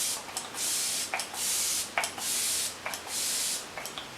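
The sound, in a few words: Flower Beauty Seal the Deal setting spray misting on face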